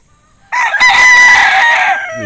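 A bull stag rooster crows once, loud and close, a long harsh call that swells and then trails off after a short quiet start.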